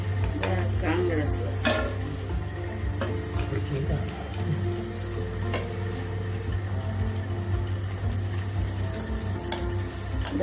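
Coloured murukku vathal fries in hot oil with a steady sizzle and occasional stirring clinks and ticks.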